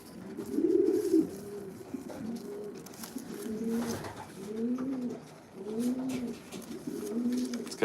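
Racing pigeons in a loft coo in repeated low, rolling phrases, several birds close by with soft gaps between calls and no talking.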